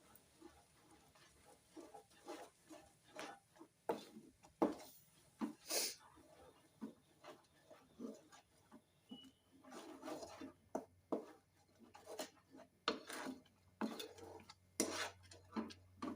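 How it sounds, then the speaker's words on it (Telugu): Grated fresh coconut being stirred in a pan over a low stove flame, repeated soft scraping and rubbing strokes of a spoon against the pan with occasional light metallic taps, quiet and steady. "ఇప్పుడు ఈ కొబ్బరి స్టవ్ కొంచెం సిమ్లో పెట్టి తగ్గించి అడుగు అంటకుండా మనం ఇది మొత్తం దగ్గరగా వచ్చేలాగా అయితే కలుపుకోవాలి"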